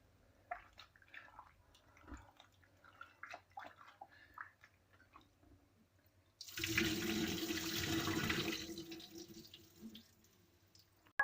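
Homemade butter being washed in water: faint small splashes and handling sounds, then a loud rush of water poured or running for several seconds before fading back to quiet dripping.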